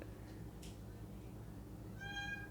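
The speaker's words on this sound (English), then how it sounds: "I have no idea what she's meowing at" A female cat meows indoors, a short clear call near the end following a faint earlier cry, over a steady low background hum.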